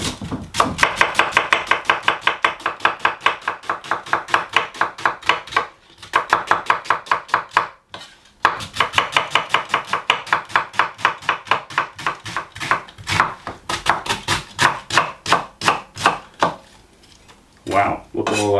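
A knife chops steadily through an onion on a cutting board, with fast, even, close knocks in long runs broken by a few short pauses.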